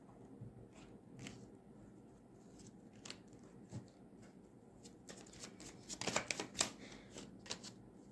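Tarot cards shuffled by hand in a quiet room, giving soft riffling and flicking bursts that grow busier and louder near the end.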